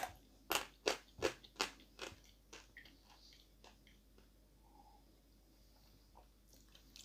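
Close, quiet crunching as an assortment of chalk is bitten: several crisp snaps in quick succession, then softer chewing crackles that gradually fade.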